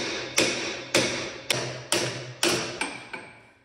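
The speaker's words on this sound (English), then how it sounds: "I put the nut on down enough to where it'll find my ball peen hammer" A ball peen hammer strikes a Dana differential bearing nut in seven sharp metallic taps, evenly spaced about half a second apart, each ringing briefly and decaying, close and clear with no talking.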